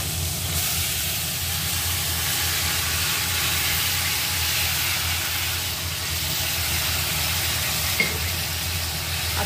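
Pressure-cooker-steamed winter vegetables go into a hot pan with tomatoes, giving a loud, steady, close sizzle and hiss that runs without a break, with faint stirring and a single brief clink near the end, and no voices.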